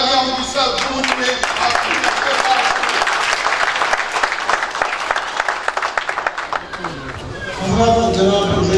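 Dense audience applause fills a hall for a speaker being welcomed, many hands clapping steadily and loudly, then tapering off as voices and a presenter's speech take over near the end.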